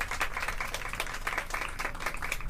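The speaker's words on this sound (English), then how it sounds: "Let's give them some nice applause." Steady applause from a crowd at a city press event, a dense patter of many hands clapping at once, holding an even level throughout.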